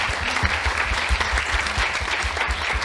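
Dense audience applause for a conference panel fills the room, steady and moderately loud for the whole stretch with no talk over it.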